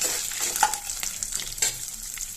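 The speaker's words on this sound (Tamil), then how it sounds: "இதையெல்லாம் சேர்த்துட்டு நல்லா அப்படியே வறுத்து விட்டுக்கலாம்" Lentils and dried chillies sizzle and crackle in a hot pan while being dry-roasted for drumstick-leaf chutney, with stirring scrapes over the steady frying hiss.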